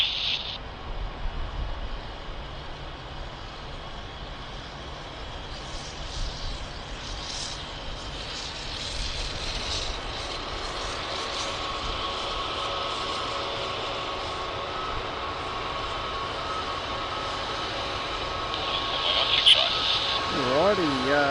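An airliner rolls for takeoff on runway 16 left at Sydney Airport, a steady distant jet-engine roar that builds louder toward the end, with voices speaking over it.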